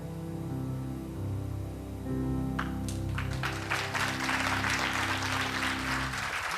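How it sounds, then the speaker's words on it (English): Conference audience at a creativity talk breaks into applause, scattered claps building into steady, dense clapping from a crowd over several seconds beneath a low room hum. "So from that clap"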